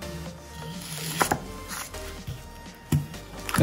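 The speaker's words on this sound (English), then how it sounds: "you're gonna cut down the poles on the onion" A kitchen knife cuts the ends off an onion for street-style tacos, producing a few separate close thuds on a cutting board over a faint background hum.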